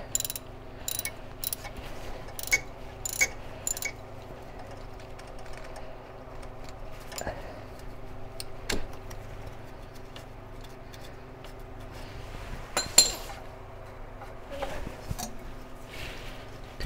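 A ratchet wrench loosens spark plugs on a C3 Corvette's 5.7L engine, with bursts of quick ratcheting clicks near the start, then scattered metallic clinks and handling noises, close and quiet with no talk.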